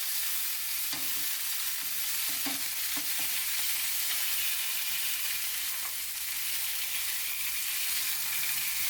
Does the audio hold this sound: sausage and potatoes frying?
yes